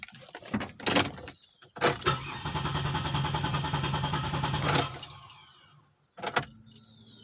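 A 2007 Pontiac Grand Prix GT with a crank-no-start fault grinds through a long, steady cranking stretch of a few seconds without catching, bracketed by short clunks and rattles nearby.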